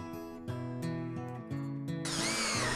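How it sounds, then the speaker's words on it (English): A power drill fitted with a 1/2 inch auger bit roughs out a mortise in a wooden mailbox post, giving short whining bursts that change pitch, then a louder, harsher cut at the end, close and without speech. "I then used a 1/2 inch auger bit and a power drill to rough out the mortise."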